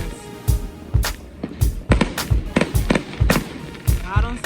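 Fourth of July fireworks bursting in Compton, a rapid series of loud sharp bangs and crackles every half second or so, close and echoing, with faint background voices of a crowd.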